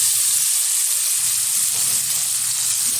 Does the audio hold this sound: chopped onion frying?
yes